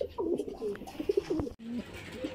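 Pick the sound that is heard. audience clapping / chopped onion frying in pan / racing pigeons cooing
racing pigeons cooing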